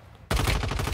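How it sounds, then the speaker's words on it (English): Gunfire in the mobile shooter game Warzone Mobile: a sudden loud burst of rapid automatic shots, closely spaced and punchy, starting abruptly after a near-silent moment and continuing to the end. "Why are you shooting me and not the guy right next to me?"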